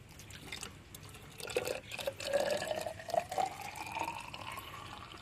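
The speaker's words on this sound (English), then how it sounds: "then you just pour the water inside" Water pours in a thin stream into a Perodua Axia car's reservoir, the gurgle rising in pitch as it fills, close by and fairly quiet.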